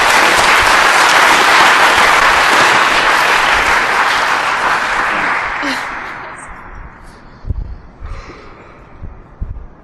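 Loud sustained audience applause at a student conference on austerity, filling the room before fading away, with a few scattered claps and murmurs at the end.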